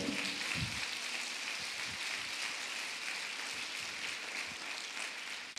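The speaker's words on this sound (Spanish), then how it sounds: "Dele un aplauso a Jesús, por favor." A church congregation applauds during a sermon, a steady wash of clapping that fills the room and holds level throughout, with no voices rising above it.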